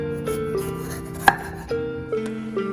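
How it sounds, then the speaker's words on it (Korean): A knife chops fresh vegetables (cucumber, green pepper, onion) on a board for chilled seaweed soup: a handful of crisp, separate cuts at an uneven pace, with one sharper knock midway. "냉국에 들어갈 야채를 한번 썰어 볼게요"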